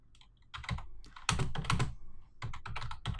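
Someone types on a computer keyboard while working in Revit, producing close, crisp clusters of keystrokes in quick bursts separated by short pauses, with no talking.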